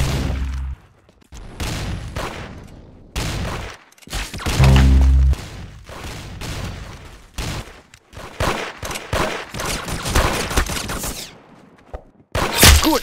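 Gunshots in the Roblox shooter game Arsenal, repeated bursts and single shots cutting in and out with short silent gaps, loud and close.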